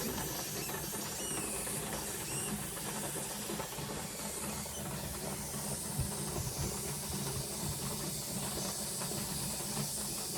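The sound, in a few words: pressure canner hissing steam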